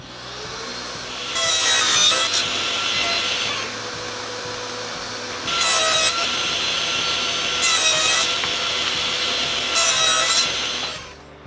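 A table or miter saw cuts miters in wooden boards for a keepsake box, set against a stop block; four loud whining cuts of one to three seconds each, separated by the saw's lower idling run.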